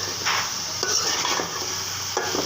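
Eggplant and potato frying with onion and turmeric in a pan, a steady loud sizzle with repeated stirring scrapes of a spatula against the pan, close up.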